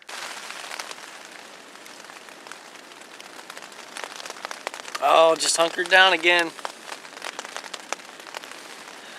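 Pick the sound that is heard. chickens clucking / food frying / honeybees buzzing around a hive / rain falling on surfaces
rain falling on surfaces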